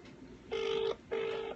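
A BlackBerry phone ringing back on an outgoing call, two clear, steady electronic ringback tones separated by a short pause, close and loud against a quiet background.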